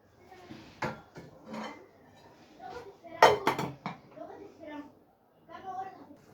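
A lid goes onto a pot of simmering taro soup with meat, giving a few sharp metallic clanks and clatters spread through the clip, close by, while someone talks throughout.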